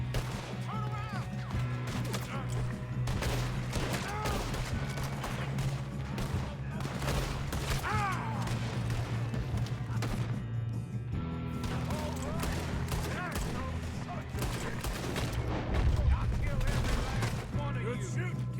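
Dense, continuous gunfire from a shootout in the video game Red Dead Redemption 2, with rapid overlapping shots and crashes throughout, loud and close, with occasional voices mixed in.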